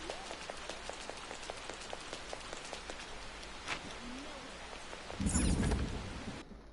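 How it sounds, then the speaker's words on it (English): Steady video game rain in Persona 5 Royal patters throughout with regular dripping ticks, then a louder rushing burst swells near the end before easing. "Raining so hard."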